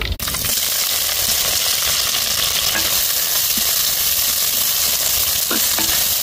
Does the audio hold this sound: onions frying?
yes